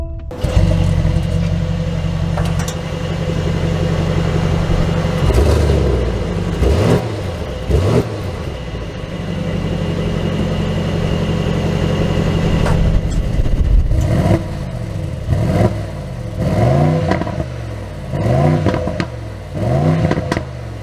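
A 2024 Mercedes-AMG GLE 63 S sets off and accelerates, its engine droning steadily, then revving up through a rapid series of rising sweeps and shifts, loud and close throughout.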